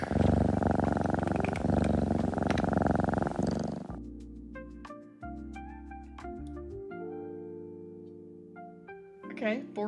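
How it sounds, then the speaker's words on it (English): A cat's low, continuous purr rumbles for about four seconds, followed by tonal electronic sounds and short chirps. "Purring."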